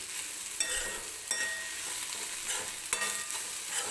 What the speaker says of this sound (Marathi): हा मसाला जो आहे तो व्यवस्थित आपल्याला कांदा टोमॅटोसोबत भाजून घ्यायचा आहे